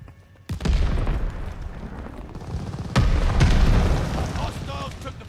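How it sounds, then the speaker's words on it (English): Grenade blasts in the Call of Duty Vanguard shooter: a sharp, loud boom, a rumbling tail, then a second explosion mixed with gunfire and battle noise. "Incoming grenade!"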